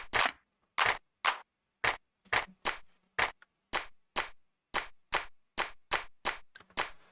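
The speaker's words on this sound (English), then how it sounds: "One more clap. That's all we need." A dry clap sample for music production, triggered about fifteen times in a loose, uneven rhythm, each hit a sharp isolated snap with a short tail and silence between.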